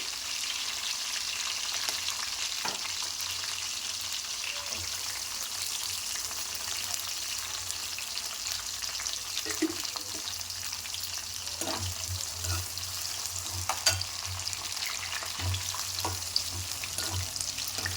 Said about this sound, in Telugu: ఇప్పుడు మనం ఆనియన్ వేసుకున్నామండి.